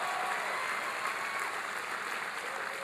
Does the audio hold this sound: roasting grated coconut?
no